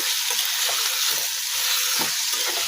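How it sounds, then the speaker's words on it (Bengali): Chicken curry frying in a pan while being stirred, a dense even sizzle with soft recurring scrapes of the spoon against the pan. "এখন আমি নাড়াচাড়া করে দেবো ভালো করে নাড়াচাড়া করে মিশিয়ে নেব"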